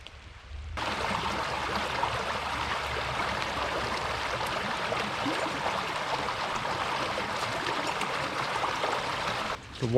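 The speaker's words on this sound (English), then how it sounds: "The water got over my shoes there. That is mighty cold." Cold stream water rushes and splashes steadily as a backpacker wades through it on the trail near East Fork Lake, a close, continuous broadband wash with no talking.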